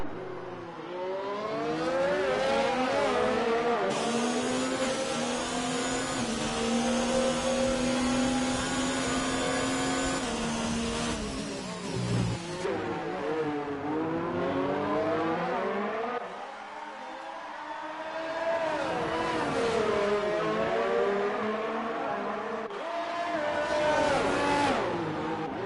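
Formula 1 race cars on the Monaco street circuit in the F1 2019 video game, high-pitched engines whining and rising through gears, shifting down and revving again as cars pass, with a brief quieter dip midway.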